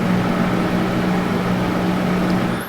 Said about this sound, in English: that's the sound of the jet engine fan that is the bathroom fan at our church